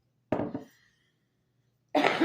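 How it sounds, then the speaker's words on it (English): Two quick coughs close together, near and fairly loud, then a pause before another burst of coughing starts. "Sorry to cough right out the bat."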